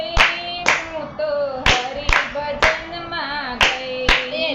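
Hand clapping at a devotional kirtan, loud, close and sharp claps falling in a steady rhythm of roughly two a second, ringing over a sustained tonal musical background without speech.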